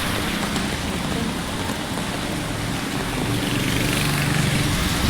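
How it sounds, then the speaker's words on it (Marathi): Heavy rain heard on the way to a market, a steady, loud broadband wash of noise that holds unbroken from start to end with no talk. "एवढा पाऊस आहे"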